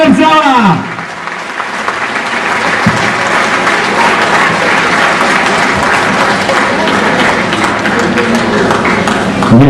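Dense, steady applause fills a shopping-mall hall during a team presentation of KMŻ Lublin speedway riders, sustained at full loudness for nearly ten seconds after a brief voice at the start.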